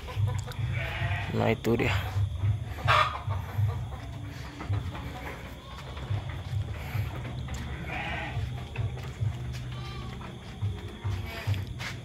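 Sheep bleat repeatedly inside a pen at night, loud and close, over a steady low livestock rumble while a person talks nearby.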